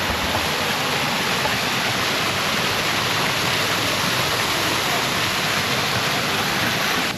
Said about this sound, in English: even a waterfall in the middle of the park